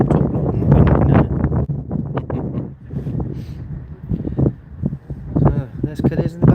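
Wind buffets across an open cruise ship deck as the P&O Iona departs Cadiz, Spain, roaring steadily into the microphone in loud gusts beneath people talking nearby.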